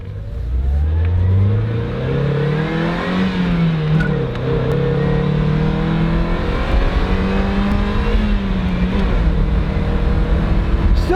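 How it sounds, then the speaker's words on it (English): A sporty little 140-horsepower car accelerates hard, its mid-pitched engine rising and falling through gears in steady, loud revving sweeps close by, with no talk over it. "Still got a lot of those 140 horses. They're basically fun, sporty little cars."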